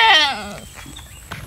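Goats bleating close by on a rural farm outing in the Philippines, a loud wavering bleat at the start that fades into quieter background noise and a faint later sound.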